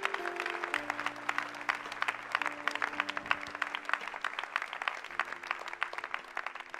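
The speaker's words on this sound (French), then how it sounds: "Alors acclame le Seigneur." A church congregation applauds steadily during worship, a dense, sustained clapping from many hands heard at moderate distance with no voices standing out.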